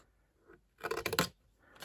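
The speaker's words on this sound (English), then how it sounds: "I'm going to get my big scissors" Big scissors cutting the square corners of a paper gift box, two or three quick close snips in a short burst in a quiet room.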